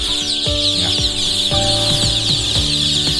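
A dense, continuous chorus of Thai native chicks peeping at a farm, with lower clucking calls from adult hens popping up now and then, close and steady.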